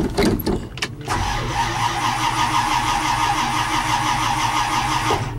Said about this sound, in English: This thing is kind of hard to start, man.